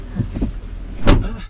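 Hummer EV door shut hard at a proving ground: a soft first thud, then one louder, sharper slam about a second later, close and alone.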